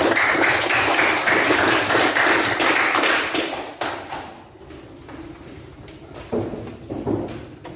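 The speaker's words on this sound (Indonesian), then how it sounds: "Mari kita berikan aplaus buat Bapak." An audience applauds a presenter at an Indonesian campus session: dense, loud clapping for several seconds that thins out and fades into scattered claps.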